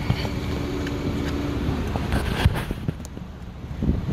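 Strong wind buffets the microphone with a continuous rumbling roar and occasional gusty thumps, no voices present.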